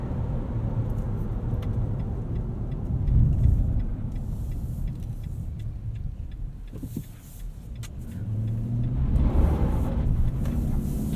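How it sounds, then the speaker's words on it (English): A 2020 Nissan Titan Pro-4X Crew Cab V8 drives along, heard from inside the cab as a deep, continuous rumble that swells under throttle twice, with faint rattles and clicks in the cabin. "I think this V8 just sounds fantastic."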